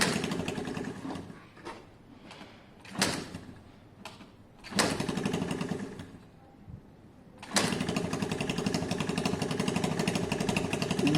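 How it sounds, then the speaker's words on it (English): Small scooter engine, a Piaggio Vespa or Lexmoto Diablo, sputtering in short bursts that catch and fade, then settling into a steady running drone near the microphone, with no voices. "Sounds like an engine."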